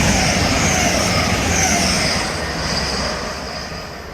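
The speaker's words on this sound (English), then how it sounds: "And also passing is the Hull Trains Adelante." A Hull Trains Adelante Class 180 diesel passenger train passes at Hitchin on the East Coast Main Line, a loud, steady rushing roar that eases slightly toward the end, with no voices.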